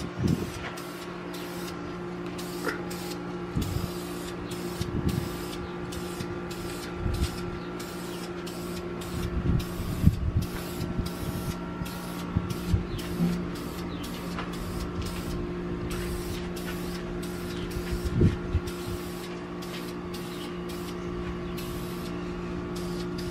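Spray gun applying a thicker coat of ceramic coating to exhaust headers, giving a steady continuous hiss for the whole stretch, broken by short bursts and clicks, with a constant hum underneath and no talk.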